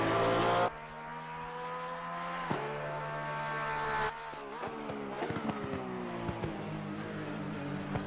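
Porsche 992 GT3R race car in Assetto Corsa Competizione at Valencia, its engine screaming at high revs with shifting pitch, abrupt drops at gear changes and steady close roar throughout, no voices.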